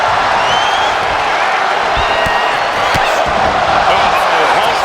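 A loud arena crowd roars and cheers continuously during a WWE 2K25 wrestling match, with commentary running over the dense crowd noise and occasional sharp impact slams.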